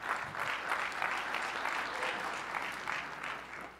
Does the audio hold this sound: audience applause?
yes